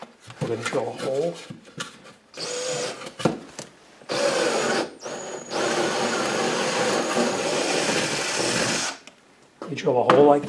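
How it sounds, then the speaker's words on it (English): A power drill whirs in several bursts, drilling a hole in drywall, the longest lasting a few seconds, with speech before and after. "You drill a hole like this in the drywall or the cinder block."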